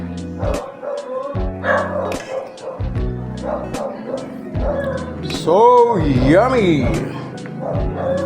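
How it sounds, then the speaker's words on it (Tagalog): Barking and yipping from a dog break out repeatedly in short bursts near a kitchen where sweet and spicy pork ribs are being served, with someone talking over and between the barks. "Pasensya na po kayo sa mga ingay ng aso."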